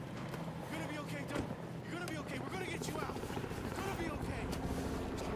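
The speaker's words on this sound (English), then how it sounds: "That stupid fucking chopper." A helicopter in the Battlefield 4 video game, its steady rotor drone running continuously under shouted speech and battle noise, loud and close throughout.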